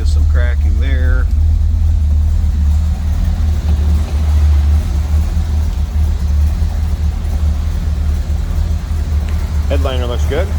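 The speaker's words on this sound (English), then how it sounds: "hear this 455 V8. A little rumble to it with that dual exhaust." A 1969 Buick Riviera's 455 V8 with dual exhaust idles with a loud, steady low rumble, while a person talks briefly at the start and again at the end.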